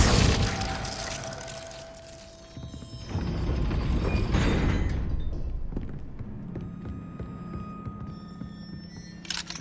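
The Glacius freezing spell cast in Hogwarts Legacy, a crackling icy burst with glassy shattering tones and ringing shimmer, rising into a dense rush before fading into lingering tinkling.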